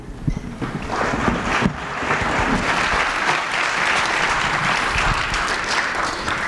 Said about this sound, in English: Please give him a round of applause as he leads our celebration